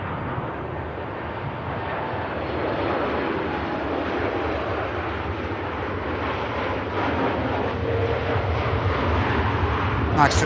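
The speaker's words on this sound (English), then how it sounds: "Nice touchdown from the Ryanair Max 8200" A Ryanair Boeing 737 Max 8200 arriving from Madrid touches down at Manchester Airport, its jet roar building steadily and swelling near the end, with talking likely audible over the engine noise.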